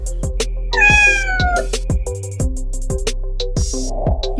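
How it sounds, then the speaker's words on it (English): A cat meows loudly and close by, two drawn-out, wavering cries with a few shorter chirps, heard over a busy backdrop of electronic beats and tones with no talk. "Oh, hi Kitty"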